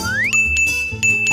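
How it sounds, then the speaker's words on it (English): Bell rung in the Rainbow Friends video game, a bright ding with a sustained ringing tone struck a few times, each strike ringing on clearly over a low game background. "We can use this bell."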